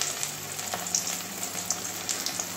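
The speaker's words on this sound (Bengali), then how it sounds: "এবারে ভেজে নেব হালকা আস্তে করে। এইভাবে তেলে দিয়ে দেব, একদম লো আঁচে ভাবছি" Stuffed teasel gourds coated in gram flour batter frying gently in oil over very low heat, making a soft continuous close sizzle with light crackling pops and no voices.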